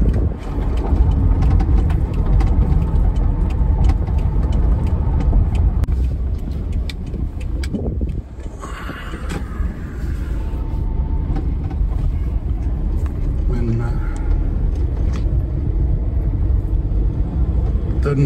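Steady road traffic in Thailand, cars and motorcycles passing close by with a continuous low rumble, engine drone and occasional louder surges and hiss as vehicles go past.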